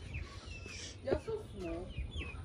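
White chickens, with a turkey nearby, cluck softly on a family farmyard visit, brief bird calls sitting over a low rumbling background.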